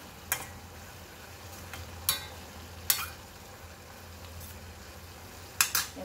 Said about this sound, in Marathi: आपण चांगला हलवून घेऊ।